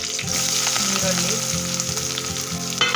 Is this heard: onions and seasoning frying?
yes